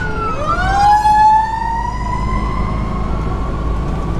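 A fire truck siren wails past on the road, a loud sweeping tone that peaks early, then settles into a steady high whine over rumbling traffic noise.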